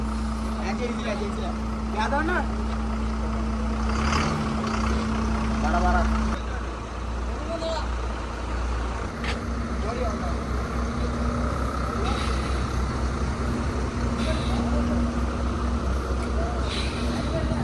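A truck with a new chassis idles with a steady low engine drone and hum, a second tone dropping out and returning as it manoeuvres, while people talk over it.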